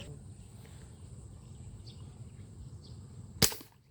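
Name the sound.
airgun shot while hunting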